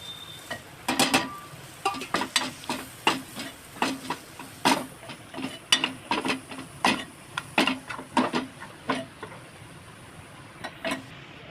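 Masala paste, ginger-garlic and ground spices being sautéed in oil in a pot for a Maharashtrian whole masoor usal, heard as steady rhythmic scraping and tapping strokes of a stirring spoon with a faint hiss beneath.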